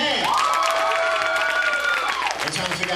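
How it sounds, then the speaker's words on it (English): A church congregation at a New Year's Eve gathering sings together loudly, a crowd of voices holding a sustained note with rhythmic clapping underneath, then trailing off near the end. "If you're happy and you know it, clap your hands."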